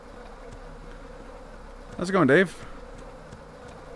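A swarm of bees in the shooter game Hrot, buzzing loudly in a short wavering burst, with a voice speaking briefly around it.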